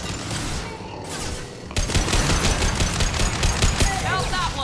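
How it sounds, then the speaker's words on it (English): Rapid automatic fire from the Matic rifle in Mass Effect 2, a dense stream of close, loud shots after a brief quieter lead-in, with game ambience and effects around it. "Let's try out the Matic. Good rate of fire."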